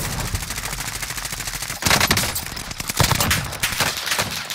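Hostile automatic gunfire in a shooter video game, sustained bursts of rapid shots with sharper, louder volleys partway through, fairly close and without speech on top.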